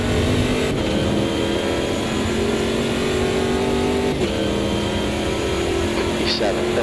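Race car engine accelerating hard at a restart behind a safety car in the Automobilista sim on the Londrina Short circuit, a loud steady drone with rising engine tones that carries throughout.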